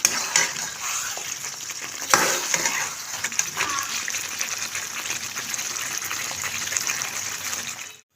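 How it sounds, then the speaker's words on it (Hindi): Mutton roasting with whole spices in a pan for kachnar gosht, a loud steady frying sizzle with intermittent stirring scrapes and clatters, close by, ending abruptly. "अब कुछ साबुत मसाले ऐड कर देंगे। 5 से 10 मिनट अच्छे से भुनाई कर लेंगे।"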